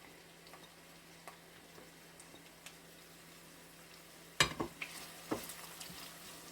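Onions dropped into hot cooking oil in a pan give a sudden loud sizzle that crackles on and fades in bursts, after a quieter stretch of faint kitchen clatter.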